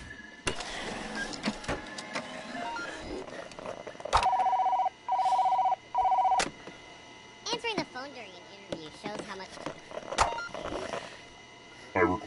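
Telephone ringing in the Job Simulator video game, several short loud rings in a quick run, mixed with clatter and a voice talking over it.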